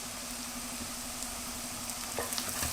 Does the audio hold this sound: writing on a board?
no